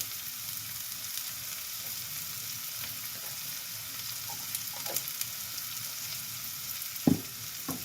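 Onions frying in oil with a pinch of asafoetida added, a steady close sizzle with faint crackles and one sharp clatter near the end.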